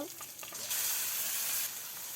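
Chopped onion and green chilli hit hot oil, a faint start followed by a sudden bright sizzle that swells and holds steadily, then eases slightly near the end.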